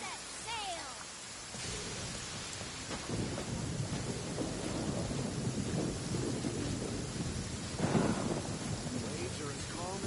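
Thunderstorm with rain in the video game Genshin Impact: steady hiss of heavy rainfall with low rumbling thunder swelling near the end, a voice talking briefly at the start.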